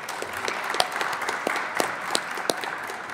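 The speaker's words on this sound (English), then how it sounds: "If we can all give those people a round of applause" An audience at a university Veterans Day program gives a round of applause, a steady crowd clapping with a few sharper nearby claps standing out at irregular moments.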